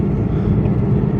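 An airplane on an airport runway, a loud, close low-frequency engine rumble that holds steady for a brief moment with no speech.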